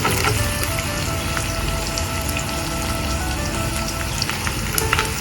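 Sliced onions hitting hot oil in a pan with green chillies for a sardine chilli curry, a steady, close crackling sizzle like heavy rain that holds evenly throughout with scattered sharper pops.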